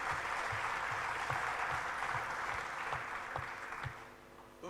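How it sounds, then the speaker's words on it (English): A conference audience at a session on funding and fundraising applauds in a steady, dense wash of clapping that softens and tapers off near the end. "So give us a round of applause,"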